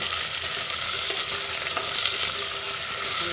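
Shallots, green chillies, curry leaves and garlic frying hard in hot oil, a loud, constant bright sizzle with faint stirring scrapes, no voices.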